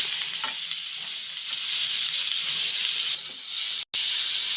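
Grated mixed vegetables frying in hot mustard oil with carom seeds in a wok on a gas stove, a steady close sizzle with soft stirring scrapes throughout and one brief break near the end.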